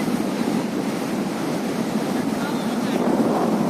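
Sea waves and incoming tide wash steadily onto Porbandar Chowpatty beach, a continuous broadband surf roar with wind buffeting the microphone and boats on the water, loud and unbroken throughout.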